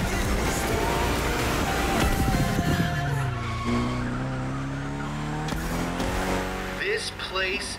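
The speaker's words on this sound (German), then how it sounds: "Go drift to your heart's content!" A car drifts with sustained tire squeal and engine roar in the racing video game The Crew Motorfest, loud and continuous with shifting pitch throughout, while a voice talks over it.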